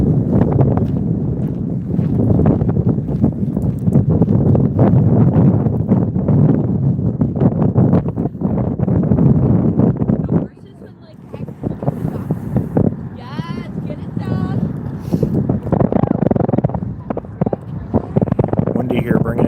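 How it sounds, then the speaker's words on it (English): Strong wind buffeting a microphone outdoors in downtown Milwaukee, heavy low rumbling gusts with a brief lull midway, while people talk throughout. "Windy here, bringing in the rain."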